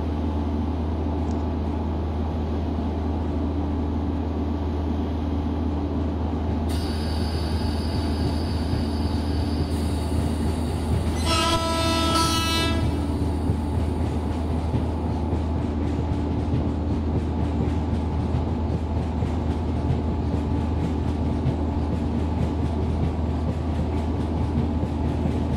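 Amritsar Express pulling out of a station after getting its signal: a steady, loud rolling rumble of wheels and carriages throughout, with a brief high tonal whistle-like sound midway and no talking.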